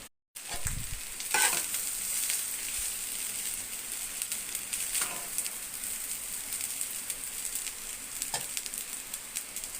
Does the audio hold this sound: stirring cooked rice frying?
yes